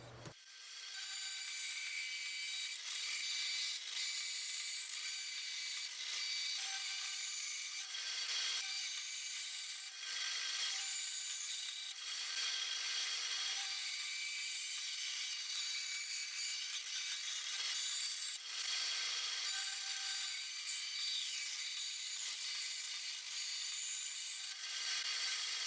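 A cut-off saw slices through metal padlock stock in a blacksmithing shop, a steady high-pitched grinding whine held throughout with brief rhythmic dips as the blade bites, close and loud with no talking.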